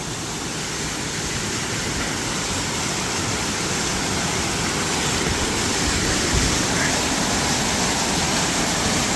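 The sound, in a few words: waterfall rushing near Machu Picchu hiking trail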